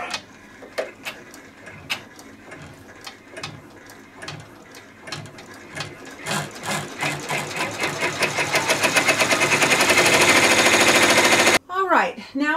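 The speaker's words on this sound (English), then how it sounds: "Now it's going to do an all-over outside border stitch." An embroidery machine stitches an all-over outside border around an in-the-hoop pot holder: a fast, close mechanical clatter of needle strokes that grows steadier and louder, then pauses briefly near the end.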